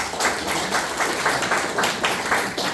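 Evangelical church congregation applauding at a late-night service: steady, moderately loud clapping from many hands with rhythmic pulses throughout.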